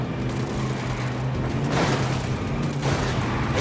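A burst of gunfire in a Ghost Recon Wildlands firefight, a rattling fusillade with a couple of louder booming shots over a constant rumbling background.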